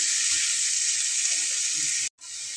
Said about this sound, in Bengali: একটু নাড়াচাড়া করে হালকা একটু ভেজে নেব।